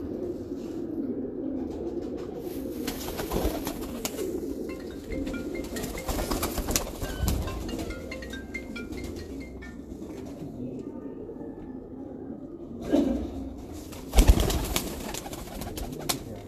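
Pigeons cooing at a pigeon keeper's loft, low soft coos repeating over steady background noise, with a few louder bumps near the end and faint voices at times.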